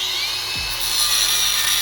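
Power tool cutting through the metal tabs of a factory rear brake caliper mount on a Nissan G35, a steady high-pitched grinding whine sustained close up without pause, no talking.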